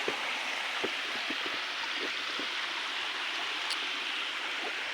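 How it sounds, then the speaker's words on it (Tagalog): Water spills steadily over small divided mini waterfalls at a gold deposit site, a constant broadband rush with faint scattered splashes and no voices. "Mini waterfalls kasi ito na hinati. Yan, yung tubig"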